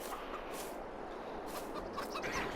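Roosters and hens cluck in a farm pen in Farming Simulator 22, a steady mass of overlapping clucks and squawks at moderate level with no other sound.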